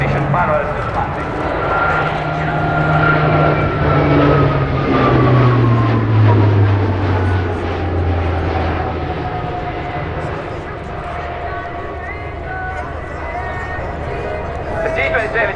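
An Italian Air Force Alenia C-27J Spartan military transport flies a display at an airshow, its engines a loud, continuous roar with slowly falling turboprop tones as it passes, while an announcer speaks over it.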